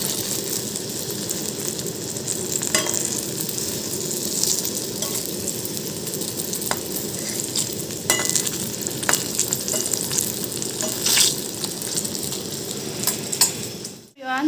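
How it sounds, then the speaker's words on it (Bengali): Potatoes frying in hot oil in a pan, a continuous loud crackling sizzle with occasional spoon clinks and stirring taps over about fourteen seconds, ending with a brief clatter. "তারপরে আমি এর মধ্যে আলুগুলোও ভেজে নেব"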